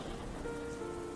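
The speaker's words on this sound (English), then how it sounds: "This rain reminds me of them." Soft rain falls outside in a steady, gentle patter and hiss, quiet and continuous with no voices over it, as a calm backdrop.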